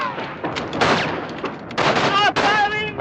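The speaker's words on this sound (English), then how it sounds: "Stop firing!" Gunfire in a wartime film scene: rapid overlapping shots and bursts crackle loudly and continuously, with shouting voices mixed in among the volley.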